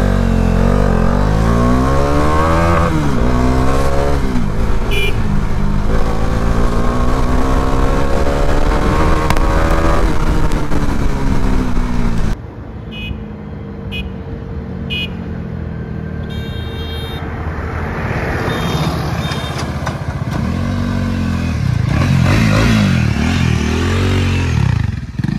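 A Bajaj Dominar 400 motorcycle, roughly 400 cc, drones steadily while being ridden on a highway, with rising and falling revs and gear changes, loud and close with wind rush. The engine note quietens midway and then builds again.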